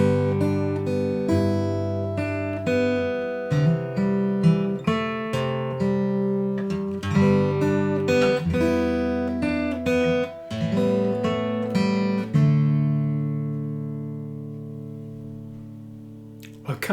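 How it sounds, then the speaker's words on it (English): Guitar playing the intro of the Eagles' "Desperado" with picked, ringing notes and chords, steady and close, fading out to a decaying final chord near the end. "So when you play the introduction on the guitar, it'll sound like this."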